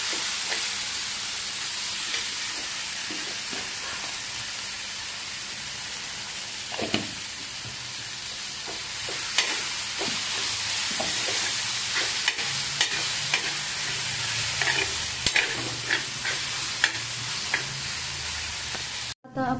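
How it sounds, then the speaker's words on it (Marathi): Village-style eggplant bharit is sautéed and stirred in a hot pan. A steady loud sizzle runs throughout, broken by frequent sharp scrapes and clinks of the spoon against the pan, with no voices. "हे जे आहे भरीत आपलं छान असं परतून घेऊ"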